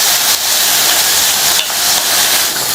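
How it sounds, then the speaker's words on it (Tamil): Onions and garlic sauté in a hot pan for a chutney, giving a loud, continuous sizzling hiss close by with no talking. "இப்ப எல்லாத்தையும் நல்லா வதக்கி விட்டுக்கலாம். ஒரு 2 நிமிஷத்துக்கு எல்லாமே நல்லா வதங்கட்டும்."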